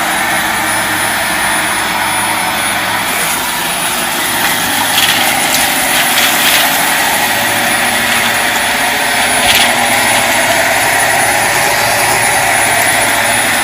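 A vacuum cleaner motor, either a Samsung Lift and Clean or a Dyson Ball Multi-Floor, runs loud and steady while it sucks up kitty litter, a continuous roaring whine with gritty rattles from the debris.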